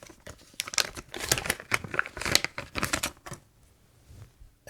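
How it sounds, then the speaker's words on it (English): Packaging crinkled and torn open by hand while unboxing vintage computer goodies, a run of close, loud, irregular crackling bursts lasting about three seconds before dropping to near silence. "that crinkling always sounds so great on camera"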